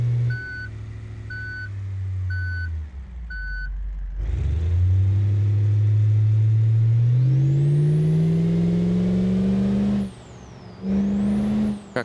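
A truck in the driving game BeamNG gives a few reversing beeps and a sharp air-brake hiss, then its engine revs up loudly with a rising, growling tone and a whistling whine, dips briefly and picks up again.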